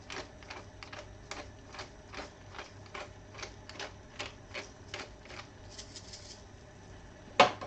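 Pepper mill grinding fresh black pepper: a rapid series of dry, gritty clicks and cranks in quick bursts, quiet and close, ending with a sharper knock.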